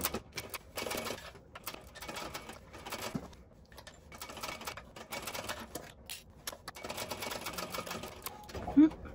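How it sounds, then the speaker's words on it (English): Sewing machine stitching a bag lining seam with backstitching at each end, heard as intermittent short runs of quiet mechanical clatter separated by pauses, with a soft voice faintly under it. "I'm going to stitch across this one side to the other, back stitching at the beginning and the ending of the seam."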